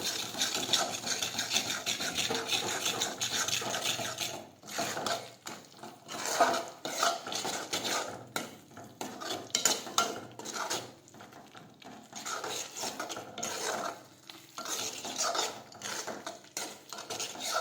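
Spices being stirred into sponge gourd curry in a pan, a close, soft scraping and clinking of a spoon against the pan in uneven strokes, with faint sizzle underneath.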